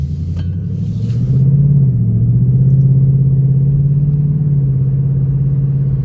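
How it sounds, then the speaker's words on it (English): A 2025 Ford Mustang GT V8 driven at night, heard from inside with a window partly down: a loud, deep, steady engine rumble that swells slightly as it revs and holds a throaty drone throughout. "It's a 25 Mustang GT, man. Things sound nasty."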